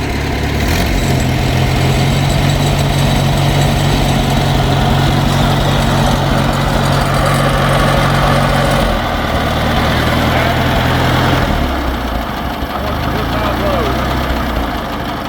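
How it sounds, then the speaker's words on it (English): A small Farmall Cub tractor engine idling with a steady, low, knocking rumble, loud and close, while people talk over it. "That motor, it just purrs."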